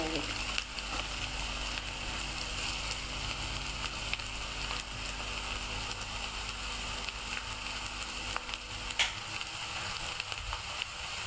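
Coconut, garlic and onion fry in a pan for eggplant bharit, giving a steady, close, even sizzle that runs the whole stretch with no pauses.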